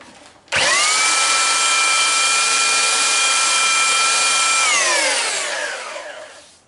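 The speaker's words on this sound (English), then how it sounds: "always sand with the grain. The grain's running this way. So you put the sander on there like that." A power sander with very coarse 40-grit paper runs on wood plugs with the grain, a loud steady high-pitched whine that starts abruptly, holds for about four seconds, then winds down as the motor slows.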